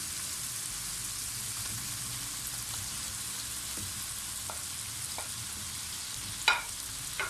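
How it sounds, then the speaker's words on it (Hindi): Cooked chicken stirred into sautéed fajita vegetables in a hot pan, a steady soft sizzle with occasional scrapes and clinks from a spoon, one sharper knock near the end. "इसको हम अच्छी तरह से मिक्स कर लेंगे"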